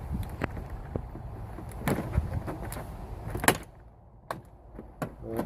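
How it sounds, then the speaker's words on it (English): A Lincoln Town Car door panel is pressed back onto its clips, giving a series of sharp plastic clicks and knocks, some louder than others, separated by short pauses of faint rustling. "You can kind of hear it lining up with the clips."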